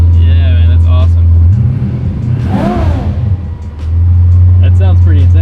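Inside a Toyota Supra with a V12 swap, the cold engine rumbles at idle, then revs up in a rising and falling sweep before settling back to a steady idle, with people talking over it.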